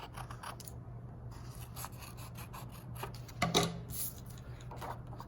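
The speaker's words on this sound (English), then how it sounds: "take your scissors and cut along the lines we just drew" Scissors snip and rasp through paper along drawn lines while a paper collage is being made, a series of short close cuts and rustles with one louder crunch near the end.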